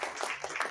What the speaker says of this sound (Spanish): ¡Ay, esos aplausos que le falta vitamina!